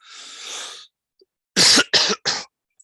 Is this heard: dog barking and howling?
no